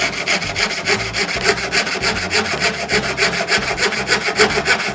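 A hand fretsaw cuts through wood while a wooden Christmas tree figure is made, rasping in quick, even back-and-forth strokes, close and continuous, with no voices.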